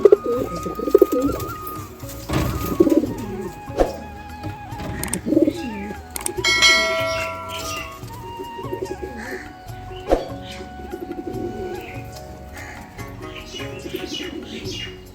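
A small male and female pair of Madras pigeons at home, cooing repeatedly in low rolling calls, close and clear, with a few faint clicks and background noises between.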